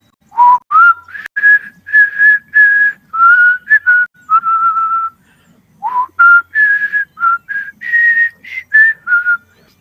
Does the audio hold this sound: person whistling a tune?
yes